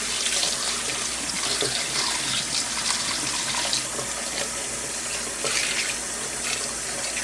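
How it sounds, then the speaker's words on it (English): Tap water runs steadily from a faucet through a bird's head being washed during taxidermy preparation, a continuous close splashing gush with no talk. "Run water through the head."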